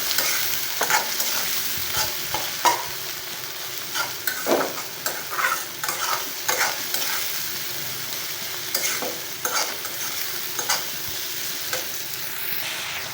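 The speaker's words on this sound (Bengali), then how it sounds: "পরিমাণ মতো লবণ দিয়ে পেঁয়াজগুলো আমি একটু ভেজে নিচ্ছি" Chopped onions frying in hot oil with salt, a steady loud sizzle under repeated scraping and stirring strokes of a utensil in the pan, close up with no talking.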